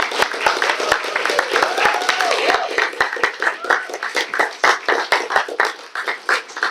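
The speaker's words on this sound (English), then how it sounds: "we should really give this next person a very, very loud clap" Scattered clapping from a conference audience at a closing session, with individual sharp hand claps standing out irregularly, and voices talking over the claps throughout.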